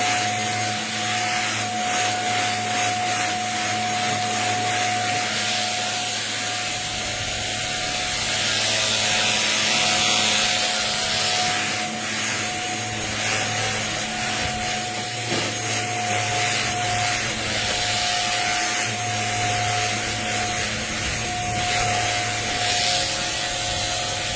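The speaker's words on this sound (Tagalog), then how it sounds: "Vacuum muna ako" A vacuum cleaner runs continuously and loudly for the whole stretch, a steady roaring whoosh with a thin whine on top.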